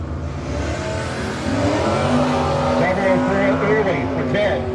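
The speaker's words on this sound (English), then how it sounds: "Her 1969 Camaro getting ready to rock and roll on the Octane 94 side of the racetrack." A 1969 Camaro at a no-box drag racing event, its engine idling and revving steadily on the track, loud and continuous with a voice speaking over the rumble throughout.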